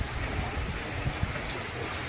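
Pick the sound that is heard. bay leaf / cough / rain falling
rain falling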